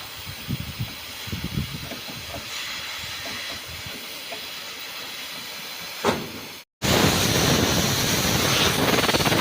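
Steady loud hissing air from a bus air-conditioning compressor runs throughout with rumbling engine noise underneath, then grows louder and broader after a brief dropout.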